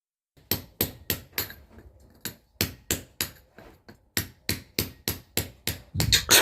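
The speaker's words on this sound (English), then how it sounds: "So enough chipping away with the old raking chisel there." Sharp, ringing hammer blows on a raking chisel chip old mortar from Victorian sandstone masonry, struck in steady bursts of three to four close, loud impacts with brief pauses between.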